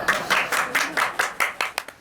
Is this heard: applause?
yes